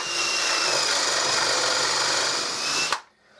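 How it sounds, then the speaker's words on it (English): A power drill whines steadily as it bores a hole into the wooden base of a bird feeder, running loud and close for about three seconds before stopping abruptly with a clunk. "I'll just drill the other three holes."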